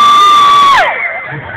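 A comedy show audience of Filipinos shouts and cheers in a loud, dense burst of many voices, with one high sustained yell dropping off near the end.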